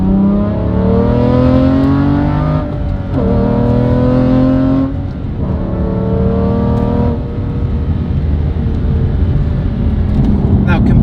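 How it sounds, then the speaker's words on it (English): An Aston Martin with a manual gearbox accelerates hard, the engine note climbing loudly through the revs with clear pauses for gear changes, close and dominant from start to finish. "Now we'll go for a bit more of a spirited acceleration."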